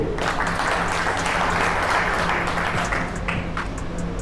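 An audience at a Darwin Group of Companies business plan meeting in Uttar Pradesh gives a full, dense ovation for Mr. Ajayrnath Singh, continuous and loud throughout, thinning slightly toward the end with a few scattered claps standing out.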